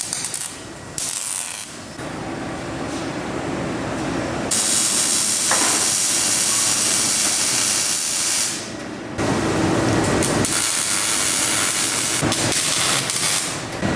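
Tack welding a tube front kit onto a Nissan 240SX frame in a makeshift jig, with loud steady hissing bursts of welding arc starting and stopping over several seconds, close and without talk.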